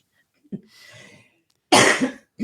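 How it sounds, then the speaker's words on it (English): A couple of sharp, harsh coughs close by, with a brief pause between bursts and near silence around them. "Go ahead, cough, hack."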